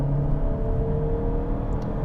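A 1.5-liter four-cylinder engine in a 2021 Chevy Malibu RS hums at a smooth, steady low drone from inside the car, with no voices over it.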